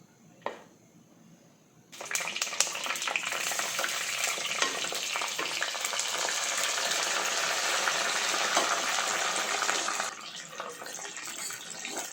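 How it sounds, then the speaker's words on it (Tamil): Onions, tomato, curry leaves, green chillies and crushed garlic sauté in a pan for a South Indian lake fish curry, a loud, steady sizzle and crackle that starts abruptly and runs on with stirring before easing off. "இது எல்லாத்தையும் இது கூட போட்டு நல்லா வதக்கிக்கலாம்."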